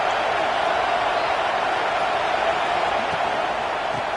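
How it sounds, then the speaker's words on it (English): Steady roar of a large stadium crowd at a college football game against Alabama, a dense continuous wash of cheering voices with no breaks. "Listen to the crowd energy here in the early going."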